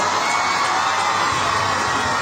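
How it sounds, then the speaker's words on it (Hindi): Large crowd at a formal gathering clapping, cheering and shouting to welcome a guest, a loud continuous roar of applause and voices filling the whole stretch. "आउ गोटे थोड़ा जोरदार करताली एवं हो हल्ला रे सजातु स्वागत जनातु महोदय"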